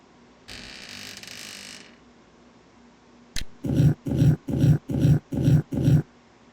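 Ghost dogs at Moon Lake in a Nancy Drew mystery game give a series of six deep, rhythmic growls in close, loud pulses, after a burst of hissing noise.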